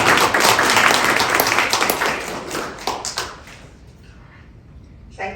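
Audience applause at a speakers series event in a New York tower, a loud, full round of clapping from a crowd that fades off over a few seconds into scattered last claps and quiet.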